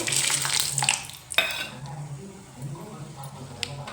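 Chana dal frying in a pan while being stirred for puliyogare: steady close sizzle with scraping stir strokes and a sharp clink near the middle, a voice faintly heard in the background.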